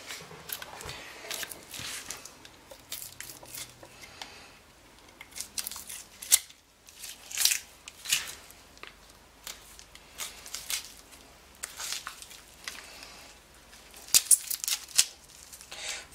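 A knife cuts deer shank meat around the bone and through a tendon while butchering for the freezer, giving close, steady scraping and slicing with irregular louder strokes and no talking.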